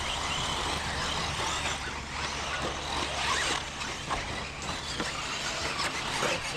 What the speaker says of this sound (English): Okay, practice lap with the Truggy.